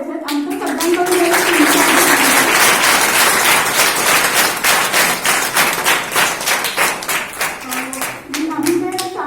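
Enthusiastic applause from an audience at a school Republic Day event fills the space: dense, loud, sustained clapping that thins into scattered claps near the end, with voices faintly underneath.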